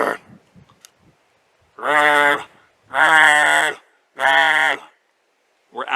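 A voice imitates elk grunts: three loud, close, buzzy throaty bursts of about a second each, evenly spaced, following a short breathy sound at the start.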